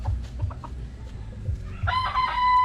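A gamefowl rooster, a Clemons Gray over Jogo Gray cross, lets out a clear crow near the end after low clucks and shuffling, loud and close.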